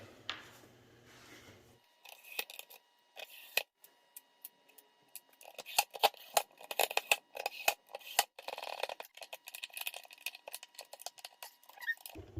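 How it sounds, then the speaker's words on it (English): Screws driven back into the housing of a used Ridgid wet/dry vac with a screwdriver, giving faint, close clicks and ticks in uneven bursts after a short quiet start, with no speech. "So now we'll just flip this guy over, screw all of our screws back in."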